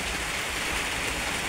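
Rain falls in a village, a steady broadband hiss and spatter on surfaces that holds constant and fairly loud with no talk.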